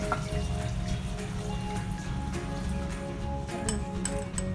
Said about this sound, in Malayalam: 1 കപ്പ് വെള്ളം ഒഴിക്കണം.